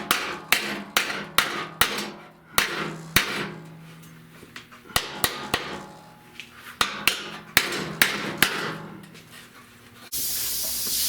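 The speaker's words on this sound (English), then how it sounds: "I want to hammer" Sharp hammer blows strike hot sheet metal on the rusted-out wheel well of a 1970 Buick Wildcat, landing in uneven bursts of several quick hits with short pauses, close and loud, with a steady hiss at the end.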